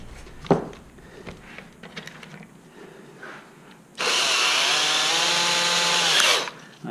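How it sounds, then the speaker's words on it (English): A few light knocks and taps, then a small drill bit whirs into wood in one steady, loud burst lasting a couple of seconds before stopping, while making a wooden box turkey call. "I drill with a real small bit"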